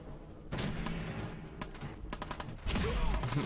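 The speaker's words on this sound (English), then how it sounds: "Gunfire already." Bursts of rapid gunfire in the video game Fallout 4 crackle in quick succession, with sharp single shots mixed in and a heavier blast near the end, no one talking.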